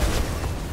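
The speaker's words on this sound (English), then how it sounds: "I just blew up with a grenade." Grenade explosion in Helldivers 2, a short loud low boom that rumbles out in under a second, close and heavy.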